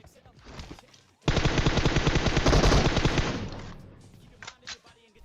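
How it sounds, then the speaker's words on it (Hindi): A dense burst of automatic AKM rifle fire in PUBG Mobile rattles for about three seconds, loud and close, with rapid repeated shots that fade into a brief tail, under faint background voice. "मैं नीचे से 2-3 एकेएम की गोली चलाता हूँ"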